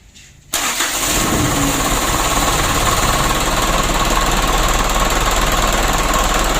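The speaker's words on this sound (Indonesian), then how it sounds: "Untuk mesinnya sudah hidup." An engine cranks over and starts after an oil change that follows oil contaminated with diesel, then runs steadily and loudly at a rough idle with a constant mechanical clatter, heard alone without talk.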